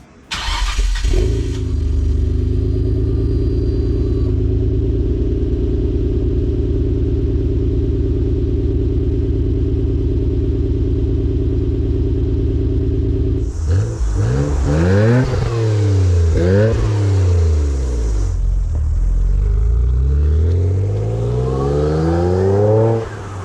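A 2001 Nissan Skyline R34 GTR V-Spec II on a road test idles loudly and steadily, then revs hard and accelerates through several gear changes, its engine pitch repeatedly climbing and dropping, close and dominant.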